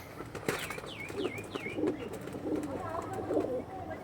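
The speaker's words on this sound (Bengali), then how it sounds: "দেখুন অরিজিনাল স্টার লাইনের পায়রা বন্ধুরা।" Several Star Line pigeons coo softly close by, with a few rising chirp-like calls early on and faint rustling that may be wing flaps over a steady background murmur.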